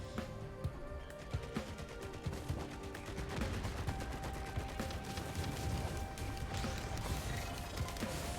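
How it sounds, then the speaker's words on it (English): Rapid automatic gunfire from a turret shredding enemies in a video game, a dense, steady rattle of shots running throughout over clanking mechanical game sounds, with no talking. "my turret that I got is doing something down there. Shredding something up."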